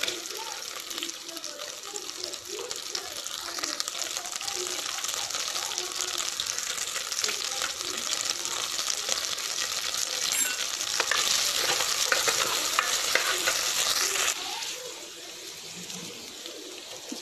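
Onions dropped into hot oil in a frying pan for prawn chettinad curry and stirred, a loud, dense, hissing sizzle that builds and then drops off sharply near the end, no speech.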